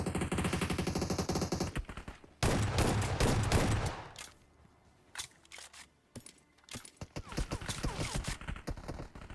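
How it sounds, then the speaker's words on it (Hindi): In the mobile shooter BGMI/PUBG, gunfire comes from a church: rapid automatic bursts, loud and dense for the first four seconds, then scattered shots and clattering sounds. "उतने में मुझे चर्च से फायर आते हैं"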